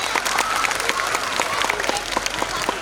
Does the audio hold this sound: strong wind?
no